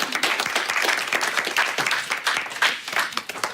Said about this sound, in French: Je pense qu'on pourrait déjà commencer par les applaudir.